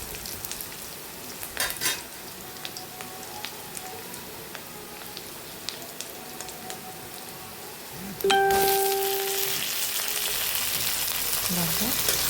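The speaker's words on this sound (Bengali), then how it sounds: "ঝিঙেগুলো দিয়ে আমি হালকা করে একটু নেড়ে নেবো" Chopped ridge gourd goes into a pan with fried small fish and is gently stirred. A steady frying sizzle runs under scattered light clinks, then a loud hiss bursts out partway through and holds strongly to the end.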